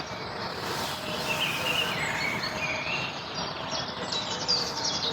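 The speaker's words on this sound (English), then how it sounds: "listen to those very quiet and hardly noticeable birds, even with bloody earplugs in" Morning birdsong outdoors on a trip abroad by 125cc adventure motorbike, several faint chirps and whistles scattered over a steady broadband background hiss, with possible insects, no speech.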